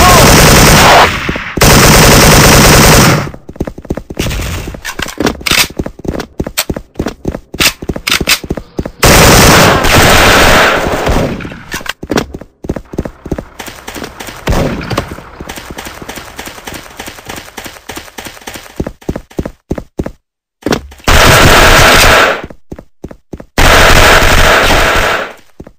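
Loud, sustained machine gun fire in a multiplayer shooter video game, coming in long dense bursts broken by brief pauses, with a voice heard faintly underneath.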